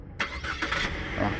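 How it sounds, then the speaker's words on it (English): A 2013 Chevy Equinox engine, started by remote start, cranks and catches, then settles into a steady idle, fairly close, with no talking. "remote start. Let's see if that works."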